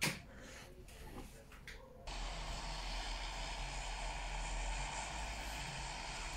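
A propeller airplane drones overhead in the PUBG video game, its steady engine hum rising abruptly after two seconds to a loud, continuous roar that holds to the end, with no one talking.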